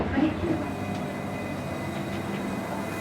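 Steady rumbling of a mountain rack railway train at Montserrat in motion, a continuous low mechanical drone with faint rattles and a soft hum, up close and fairly loud.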